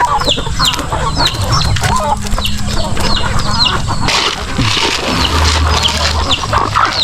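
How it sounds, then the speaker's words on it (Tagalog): Hens and roosters in a Philippine farmyard cluck steadily, with many overlapping short calls near and far, over a low rumbling background that shifts partway through. "Dito yung mga manok natin ha."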